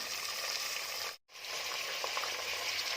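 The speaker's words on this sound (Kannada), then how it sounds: "ಹಾಕ್ಕೊಂಡು ಚೆನ್ನಾಗಿ ಫ್ರೈ ಮಾಡ್ಕೋಬೇಕು ಎಣ್ಣೆಲಿ" Chopped onion, tomato and mixed vegetables sizzle steadily in hot oil while cooking for palak pulao, a loud continuous fry with a brief near-silent break partway through.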